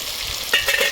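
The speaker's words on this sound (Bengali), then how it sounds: "এখন আমি নাড়ি দেবো।" Food being stirred in a frying pan, with a loud continuous sizzle and two brief scraping bursts near the end.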